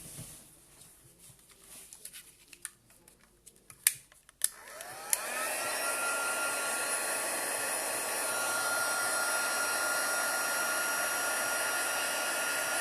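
A heat gun starts up after a few small clicks and taps, then blows hot air steadily and loudly onto a slate-effect card, holding a constant whooshing whine.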